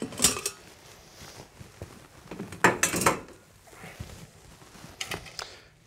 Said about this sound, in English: Just use a rubber spatula to push that sauce through.